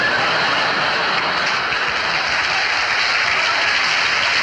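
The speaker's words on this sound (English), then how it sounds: "Would the people in the cheaper seats clap your hands?" A theatre audience at the Royal Variety Performance claps steadily and densely during a live concert, a continuous wash of applause with no talking over it.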